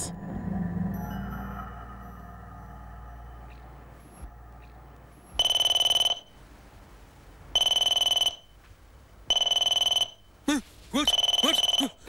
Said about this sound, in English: That alarm.